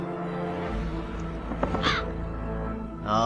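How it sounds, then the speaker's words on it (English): A one-eyed raven in the Dark Tales 7 hidden-object game caws twice in short, harsh bursts over a steady low ambient drone, with a faint rustle between the calls. "It's a one-eyed raven."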